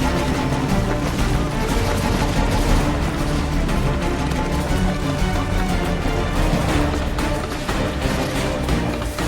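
Redcoat musket fire in Assassin's Creed III Remastered: a dense, continuous battle din of overlapping shots and crashes, loud and steady throughout with no clear gaps.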